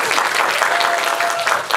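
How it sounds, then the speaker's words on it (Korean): Audience applause at a Korean film stage greeting in a small cinema, a dense, loud, continuous patter of many hands clapping close by, with no pauses. "지금 박수 소리와 이 호응도로 봤을 때 한승현 배우님을 향한 뜨거운 그 에너지가 느껴지는데"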